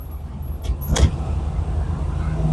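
A 2000 Maruti Omni van pulls along in first gear, a low, steady engine drone from inside the cabin with a sharp click and short whoosh near the middle.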